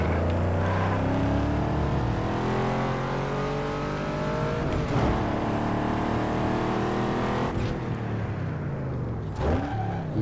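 A Mustang engine in Need for Speed Underground 2 revs and climbs steadily through the gears, loud and close, with brief dips at shifts and a continuous droning roar with no talking.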